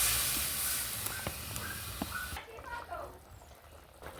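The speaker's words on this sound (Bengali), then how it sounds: "কষানো হয়ে গেছে, তেল ছেড়ে দিয়েছে, ওর একটু জল ঢেলে দিলাম।" Water poured into a pan of rohu fish curry sizzling in oil, a broad hissing steam burst that cuts off abruptly, leaving a quieter bubbling simmer with faint talk in the background.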